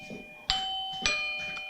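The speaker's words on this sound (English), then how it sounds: "And there goes my doorbell." A doorbell chimes indoors with two bright ding tones about half a second apart, each ringing out and fading, followed by fainter echoes.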